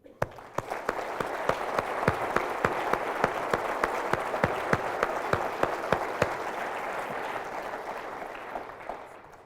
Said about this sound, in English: I would ask you for a fellow messenger just to give him applause of encouragement.